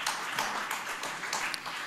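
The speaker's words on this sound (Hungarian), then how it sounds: "De kijár a taps a tördelő szerkesztőnek, Bornemisza Ádámnak is" Short burst of audience applause for an editor at a literary anthology discussion event, a scattering of claps at moderate level with no voices over it.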